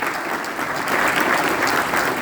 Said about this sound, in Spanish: Un aplauso grande para Dona Ledesma, Alberto Peralta, secretario general de la CGT